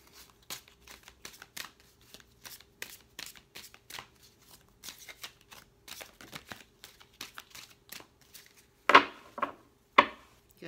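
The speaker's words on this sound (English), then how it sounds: "these have already been shuffled, but I was just giving them an additional shuffle" A deck of cards being shuffled repeatedly, quick riffling bursts in a steady rhythm, ending with a few louder snaps and bridging clatters.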